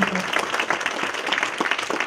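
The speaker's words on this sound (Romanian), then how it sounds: "dacă se aplaudă, nu?" A festival audience applauds steadily, a dense, loud wash of many hands clapping for the whole stretch with no break.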